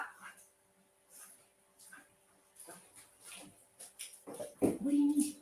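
A puppy whimpers and yips softly in short, high-pitched bursts at some distance, growing louder toward the end, while a person speaks faintly in the background.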